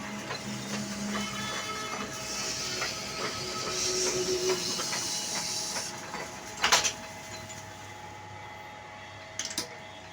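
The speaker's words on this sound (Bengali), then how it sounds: "এই যে দেখতে পাচ্ছেন লেদ মেশিন" A lathe puts the finishing cut on a steel plate, making a steady whirring machine drone with a faint hiss, broken near the middle and again near the end by a few sharp metallic clacks.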